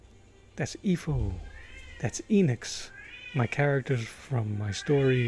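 A pet cat meows in several drawn-out, rising calls between stretches of close speech, with the voice and the cries alternating over about five seconds.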